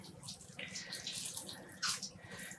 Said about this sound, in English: I'm squeezing out the water.